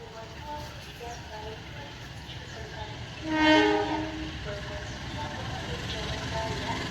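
An Argo passenger train on the Solo–Jakarta route moves along at a slow, steady rumble, with a brief horn-like tonal burst in the middle and faint voices in the background.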